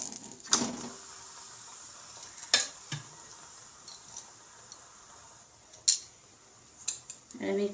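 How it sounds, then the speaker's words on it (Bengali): Dal puri fries in a little oil in a hot wok, with a faint steady sizzle and several sharp clinks of a utensil against the pan scattered throughout. "কড়াইটা আমার গরম হয়ে গিয়েছে, আমি ডালপুরিটা কড়াই দিয়ে দেব।"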